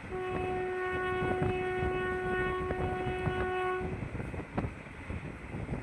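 A passenger train on the Bhuj to Rajkot line sounds a long steady horn blast for about four seconds over the rumble and rattle of rolling carriages, then the clatter of wheels continues alone.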